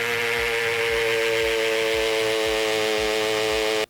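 A cheap DeWalt corded hammer drill bores into masonry with a steady, loud motor whine and a rapid hammering buzz that runs unbroken and close up, then cuts off abruptly at the very end.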